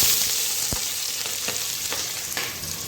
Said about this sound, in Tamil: இப்போது வெங்காயமும் பச்சை மிளகாவும் போட்டுக்கலாம்.